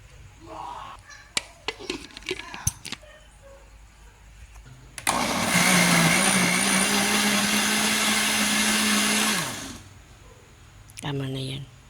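A kitchen blender whirs loudly for about four seconds as it purees mango with no added water for ice candy, its motor pitch dropping as it winds down, with people chatting before and after.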